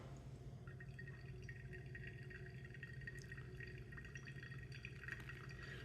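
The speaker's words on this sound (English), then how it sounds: "Coming up on our second pour, just getting our kettle ready." Hot water streams steadily from a kettle onto ground natural SL28 coffee in a spiraling second pour, a faint, soft, continuous trickle with light drips in a quiet room.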